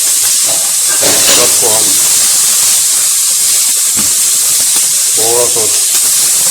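Boiled chicken pieces sauté in a pan for Pakistani-style white sauce pasta, giving a steady, close hiss of sizzling that runs throughout while a person talks over it.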